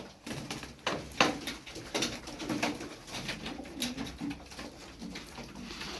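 Tumbler pigeons coo in a steady, overlapping murmur of soft rolling calls, fairly close, with faint flutters and small knocks in the background.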